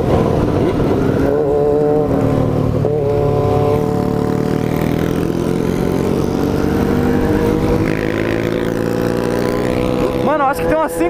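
Several motorcycles ride together in a group, their engines droning steadily and shifting pitch up and down close by for the whole stretch, with brief bursts of wind buffeting.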